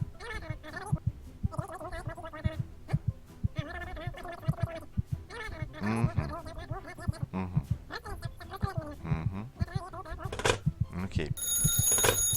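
In the video game Calm Down, Stalin, an old telephone rings repeatedly in the office, its bell buzzing in bursts under frequent, excited talking and laughter.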